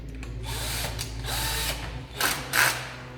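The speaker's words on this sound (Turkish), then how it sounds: "mutlaka evimizde bir tornavida vardır. Ben şarjıyla yapıyorum." A cordless screwdriver runs in short whirring bursts, close by, as it drives in the height-adjustment screw on a homemade adjustable writing board. Two sharper, louder bursts come near the end.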